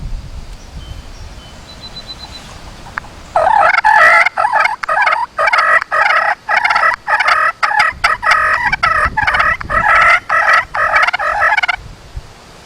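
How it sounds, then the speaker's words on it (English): Wild turkeys fighting in Michigan, loud rapid rasping fighting purrs in a string of choppy bursts for about eight seconds, then quiet. "Those fighting purrs a lot of times will give you that challenging call that brings in those gobblers"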